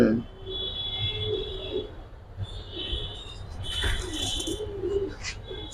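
A single male Giribaz pigeon and others coo in soft repeated calls amid wing flutters, close by and partly under a man's conversation.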